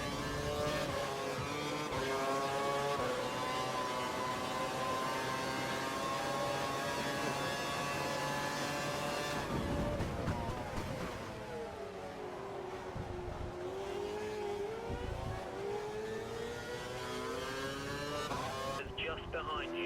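Formula 1 race car engines in the F1 2012 video game at Valencia, a high-pitched screaming whine with layered harmonics rising and falling through gear changes, a sharp downshift midway and a second car close by, under a commentator's voice.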